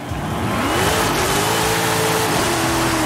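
A powerful big-engine front-wheel-drive car revs steadily and loud, pitch climbing then holding high as it accelerates hard and loses traction, with a continuous roar throughout.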